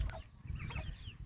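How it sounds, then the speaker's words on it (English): Young meat chickens in a garden coop after their morning feed give soft, low clucks and faint chirps, close and continuous but quiet. "Yeah, these are meat chicks. They just ate their breakfast."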